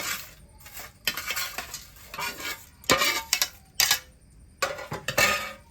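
Fried chicken is plated, with bursts of metal cutlery scraping and clinking against pans and dishes separated by short quiet gaps, close and fairly loud, with no talking.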